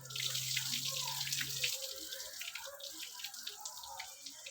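Tap water runs steadily into a kitchen sink while rice is washed, a soft continuous hiss with faint splashes and a low hum at the start.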